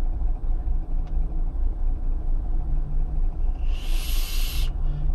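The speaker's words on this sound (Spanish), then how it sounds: "escucha la motito" A small motorbike revs beside the listener in city traffic, a steady close engine rumble with a brief rising high whine near the end.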